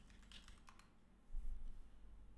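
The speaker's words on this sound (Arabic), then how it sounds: "نكتب جوجل دوت كوم" Keys clatter on a computer keyboard as google.com is typed: a short, quick run of close clicks early on, then only a low hum.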